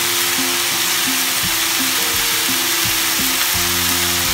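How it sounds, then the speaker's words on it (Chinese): Celery and carrots stir-fried with mushrooms in a wok, giving a steady loud sizzle with repeated scraping tosses of the spatula at an even rhythm, no voices. "所以落埋头先嗰啲飞咗水嘅西芹同埋红萝卜，兜下佢"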